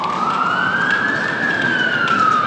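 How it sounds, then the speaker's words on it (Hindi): An emergency vehicle siren wails on a San Francisco street, one steady rising and falling tone sounding loud and continuous over the traffic rumble of the city. "ये फायर ब्रिगेड, एम्बुलेंस, कॉप्स, ये सायरन्स बंद नहीं होते, ये नॉन स्टॉप है।"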